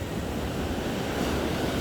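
Ocean waves wash steadily at a rocky low-tide fishing spot near Sydney, Australia, as a continuous, fairly loud rush of surf with wind, and no voices.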